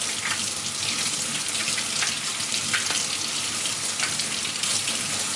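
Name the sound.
running tap water while slicing green bananas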